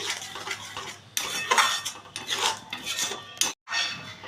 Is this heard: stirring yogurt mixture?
yes